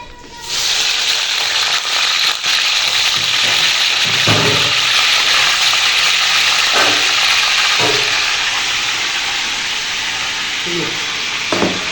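Onions fry in a pan with a loud, steady hiss of sizzling that runs almost unbroken, with occasional faint knocks and murmured background voices underneath.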